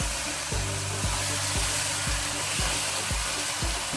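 Zucchini masala frying in oil in a pan over a medium-high flame; a steady, dense sizzle fills the whole stretch, with faint regular low thumps underneath and no talk.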